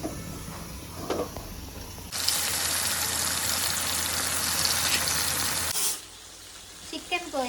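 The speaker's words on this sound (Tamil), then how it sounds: "சிக்கன் 65 பொரிக்க போகிறோம்." Chicken 65 deep frying in a kadai: a loud, dense burst of hissing oil sizzle starts abruptly, holds for several seconds, then cuts off, with faint clinks and kitchen noise before and after.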